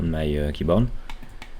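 A computer keyboard key is pressed during a 3D editing tutorial in Smode software: someone speaks, then a couple of soft, quick clicks sound close by after he stops.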